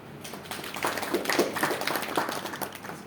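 Audience applause at a spiritual book discussion, a short burst of hand clapping that swells in the middle and then holds at a moderate level.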